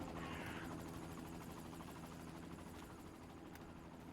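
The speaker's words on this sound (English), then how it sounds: "There's a helicopter that's running around out here." A helicopter circles in the open world of the video game Secret World Legends, a faint, steady rotor drone with no voices over it.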